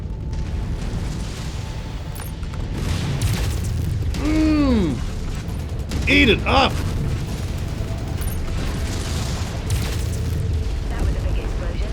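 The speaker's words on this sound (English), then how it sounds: "That was a big explosion." A big mech explosion in the MechWarrior 5: Mercenaries video game rumbles through dense battle noise, with brief bursts and a sweeping tonal whine mid-clip, while a voice speaks briefly over the loud combat.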